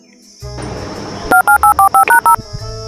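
A telephone number is keyed in as a run of eight short, evenly spaced touch-tone beeps over a low background hum, loud and close, with a faint murmur at the end.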